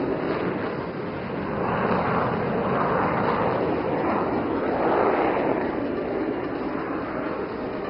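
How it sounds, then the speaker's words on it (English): Suryakiran team jets take off in a Vic formation from the runway at the Aero India air show, a broad, sustained engine roar that swells and eases in waves. "witness the last and final Vic takeoff"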